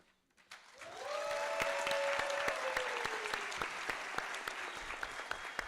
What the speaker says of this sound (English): Another big round of applause and then we finish this presentation.